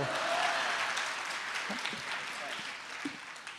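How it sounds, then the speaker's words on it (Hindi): Audience applause at a live comedy poetry recital, a sustained wash of clapping from a large crowd that fades slightly and continues steadily throughout, with scattered louder individual claps near the end. "अगली पंक्ति पर तालियां चाहता हूं"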